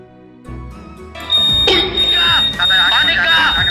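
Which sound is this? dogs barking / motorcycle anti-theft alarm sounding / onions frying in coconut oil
motorcycle anti-theft alarm sounding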